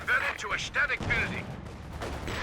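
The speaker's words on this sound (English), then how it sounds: "Flare up in the air. Probably from the Soviet mortar there." Soviet mortar fire in Company of Heroes 2, a few sharp bursts and thuds in quick succession mixed with other battlefield noise, moderately loud.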